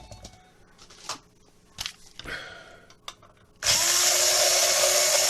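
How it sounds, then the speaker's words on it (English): A power drill bores holes into the top of a box, first a few scattered clicks and knocks while positioning, then a loud, steady motor whine that runs continuously to the end. "drill a few holes in the top right here for the speaker"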